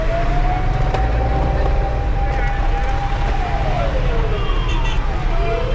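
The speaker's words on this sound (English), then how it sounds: "it's ambulance here" An ambulance siren wails in steady, sweeping tones amid road traffic and wind noise, heard from inside a moving car with faint talk nearby.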